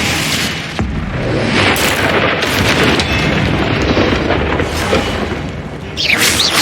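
Confringo blasting spell exploding in Hogwarts Legacy, a sharp crack followed by sustained, loud, rumbling blasts and debris-like roar, with a brief bright burst near the end.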